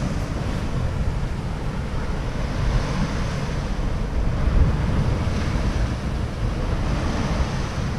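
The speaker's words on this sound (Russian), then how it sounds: "вон там видно, насколько прям жестко плещутся волны" Rough sea waves splash hard against the coast near moored small yachts and boats, a loud continuous surf wash mixed with heavy wind buffeting the microphone.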